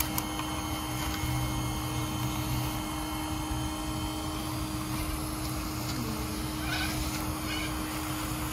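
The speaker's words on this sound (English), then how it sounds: "I'm just going to vacuum these up as well." A steady, droning vacuum cleaner sucking up bees from a bathroom wall runs throughout with a constant hum and faint higher whine, plus occasional small rattles and bumps.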